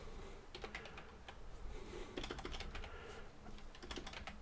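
Close, quiet clatter of typing on a computer keyboard, irregular bursts of keystrokes over a faint hum, with no voice.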